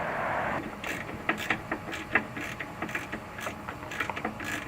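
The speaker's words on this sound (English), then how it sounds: "The first thing we're going to do is remove the lower bolt from the end link on both sides." A ratchet working loose the lower end link bolt on a car during a coilover install, a quick run of close clicking ratchet strokes after a brief hiss, mechanical and fairly quiet, no talk.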